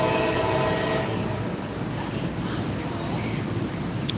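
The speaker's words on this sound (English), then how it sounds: "There comes Amtrak slow as shit." An Amtrak train rolls into a station platform, a steady loud rumble of wheels and rail noise filling the scene, with no voices over it.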